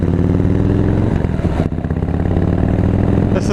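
A Harley-Davidson Road King Special with factory headers rumbles loud and close, a steady deep engine throb with a slight dip and recovery partway through.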